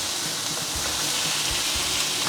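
Chicken thigh fillets lie skin-side down in a pan with a little oil over high heat, giving a steady, dense hiss of sizzling fat with faint low knocks underneath, continuous and fairly loud throughout.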